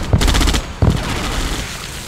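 Loud, close rapid-fire gunfire from the real-time strategy game Red Alert 2 comes in two sharp bursts of quick rattling shots, the second following a short pause and tailing off into a rumbling echo.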